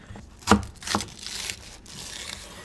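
A knife chopping green onion into small pieces on a cutting board, two crisp close cuts followed by softer scraping and crinkling, quiet and alone.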